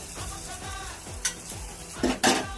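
An omelette frying in a pan gives a steady, quiet sizzle, punctuated by scraping taps from a utensil and a couple of louder clinks near the end.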